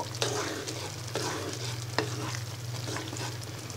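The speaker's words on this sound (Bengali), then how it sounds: "এবার ফোড়নটাকে ডালের সাথে ভালো করে মিশিয়ে নিব।" A spoon stirs a tempering into hotel-style mixed dal, scraping the pot in a few distinct strokes over a soft, continuous sizzle and a low steady hum.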